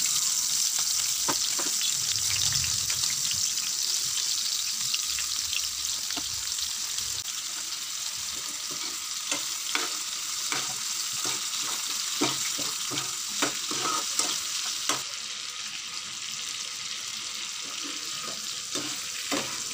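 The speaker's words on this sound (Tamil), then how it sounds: "இதே பேனில் நம்ம மேரினேட் பண்ணி வச்சுருக்கிற பிரானையும் எண்ணெயில் ஃப்ரை பண்ணி எடுத்துக்கலாம்." Marinated prawns fry in oil in a pan with a steady, close sizzle throughout, broken by repeated sharp crackles and spatters.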